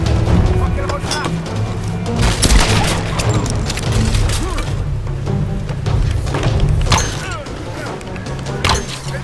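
Gunfire from the Tomb Raider video game fills a dense, booming, chaotic battle mix with repeated sharp shots and impacts over a continuous rumble.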